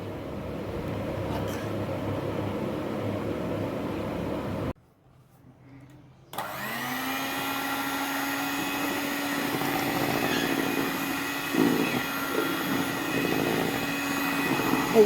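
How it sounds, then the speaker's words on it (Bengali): An electric hand mixer whirs steadily while beating chocolate into cream, a continuous motor drone that stops briefly for a moment of near silence and then restarts, running on at a steady near level to the end. "এই চকলেটের এইটা দিয়ে এইবার আমি বিট করব।"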